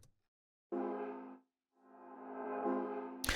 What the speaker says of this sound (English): The first one is just a simple piano hit from the sample, like a distorted piano